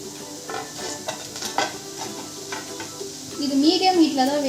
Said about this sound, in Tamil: இப்போ வந்து இதை அப்படியே டைரெக்டாக எண்ணெயில் போடுறேன்